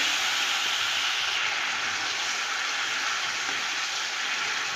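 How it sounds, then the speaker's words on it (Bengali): Ground melon seed spice paste sautéing in a pan with a little water: a loud, continuous, even sizzle close by, with faint stirring and no voices. "বেটে রাখা চার মগজটা এটাকে ভালো করে কষবো"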